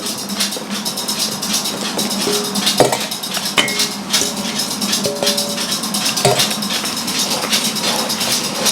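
Almond powder and eggs being mixed by hand for marzipan, with steady soft scraping and stirring against a bowl, scattered clinks of utensils, and a constant background hum throughout.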